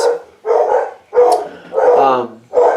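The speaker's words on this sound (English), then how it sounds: "Sorry about the dogs" Several dogs barking loudly and close by in repeated bursts, some overlapping, with a growly edge to the barks.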